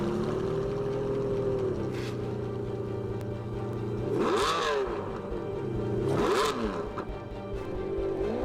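A Ferrari LaFerrari Aperta driven by Sebastian Vettel, its engine droning steadily and then surging in two loud, rising revving sweeps as it accelerates past.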